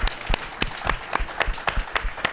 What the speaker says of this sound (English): Can we clap it up for these 2 young ladies right here?